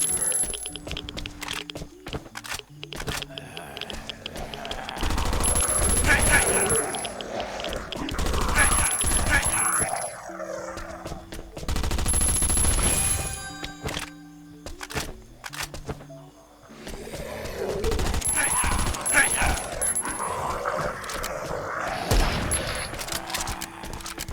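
Gunfire while shooting zombies in Last Island of Survival, bursts of rapid shots coming in several loud clusters separated by quieter gaps, with someone talking throughout in Thai.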